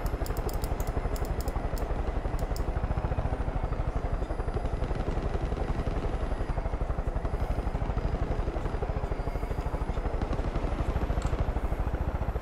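A helicopter in the video game Far Cry 5 drones on steadily for the whole stretch, a loud, even rotor chop with engine whine and no breaks.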